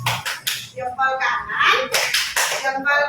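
A group claps in the two-thumbs clap pattern during a positive school culture session, several quick bursts of claps close by, mixed with voices talking over them.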